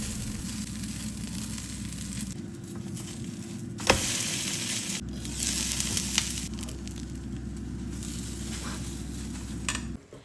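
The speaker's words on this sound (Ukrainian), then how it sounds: "знімаємо з пательні і починаємо смажити другий хачапурі" Khachapuri frying in a pan gives a steady, close sizzle and crackle that runs for the whole stretch, with a sharp clink or scrape of the pan partway through. No one speaks.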